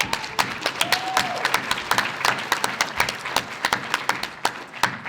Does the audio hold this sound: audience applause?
yes